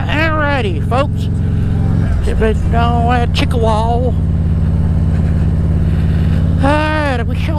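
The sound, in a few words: motorcycle riding on road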